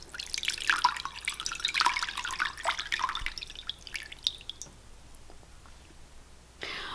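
Water drips and trickles into a yarn dye pot used for overdyeing red yarn with blue, small close splashes clustered in the first few seconds before trailing off to quiet.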